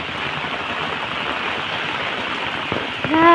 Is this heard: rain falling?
yes